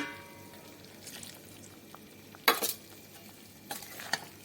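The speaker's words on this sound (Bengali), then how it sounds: "ফুলকপিগুলো দিয়ে এবার আস্তে আস্তে মশলার সঙ্গে কষাতে হবে।" Fried cauliflower being stirred with spices in a pan for a cauliflower rezala, with a faint sizzle under scraping strokes of a spoon, two louder bursts of stirring partway through.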